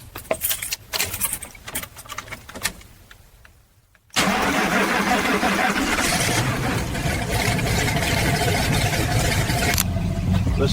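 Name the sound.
restored 1969 Chevrolet Camaro engine running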